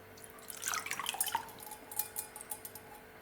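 Water splashes and trickles into a pot as the base for homemade shaving cream, quiet close pouring with scattered drips and light clinks of metal and glass, no talking.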